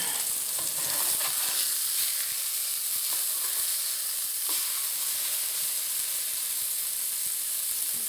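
A 23-year-old freeze-dried pork chop fries in a pan, giving a loud, constant hissing sizzle with scattered small crackles and no talking.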